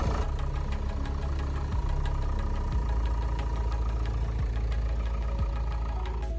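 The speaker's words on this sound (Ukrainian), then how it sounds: "М'яко тихенько працює двигун." A Ford Custom Titanium passenger van engine idles smoothly and steadily at a low rumble, quiet and even, with no voices.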